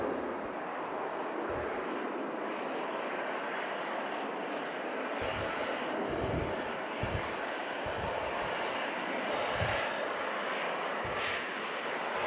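A Ryanair airliner departing Manchester Airport for Porto roars steadily with a broad, sustained jet rumble, moderately loud and continuous at a distance, with no talk.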